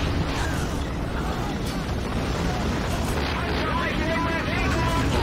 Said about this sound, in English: They're getting a lot of explosions.